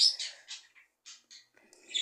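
Several short bursts of high bird chirps and tweets, close and fairly loud, separated by brief quiet gaps, with no talking.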